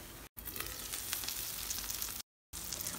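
Hot oil trickles under the edges of a flipped pancake in a covered pan, setting off a steady, close crackling sizzle, broken by two brief silent gaps.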